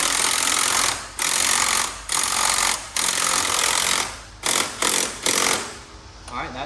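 An impact wrench runs up coilover bolts on a 3000GT in a series of loud, rattling hammering bursts with short pauses between them, close to the microphone.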